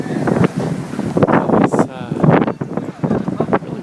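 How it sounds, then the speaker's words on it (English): Strong wind buffets the microphone outdoors at an anime convention, a loud, constant rumbling roar with gusts, heard under someone talking. "It's really windy."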